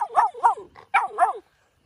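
Several high-drive puppies bark in quick succession, four sharp yaps in two pairs, close and fairly loud, then a brief silence.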